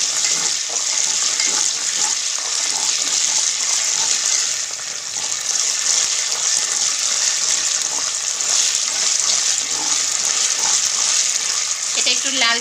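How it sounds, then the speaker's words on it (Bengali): Ginger paste fries steadily in a pan for a Chinese-style chicken vegetable curry, with a constant loud sizzle and occasional stirring scrapes, and no talking. "আদা বাটাটা আমি ভেজে নেব।"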